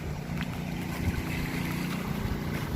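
A boat motor runs at the old port of Banalo in Lobo, Batangas, Philippines, with a steady low engine drone mixed with constant wind and water noise throughout.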